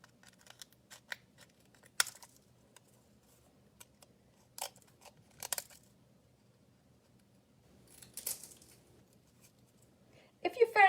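Scissors snipping protruding eggshell pieces off a handmade eggshell mosaic jewelry piece, a series of close, crisp, irregular cuts with quiet pauses in between, and a person speaking softly at times.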